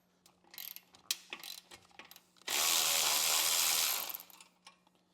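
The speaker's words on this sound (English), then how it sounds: "So I'm going to start by loosening this band clamp." A ratchet loosens the exhaust band clamp bolt on a 2023 Harley-Davidson Road Glide, with scattered metallic clicks followed by a steady, loud ratcheting run of about one and a half seconds, then a few more clicks.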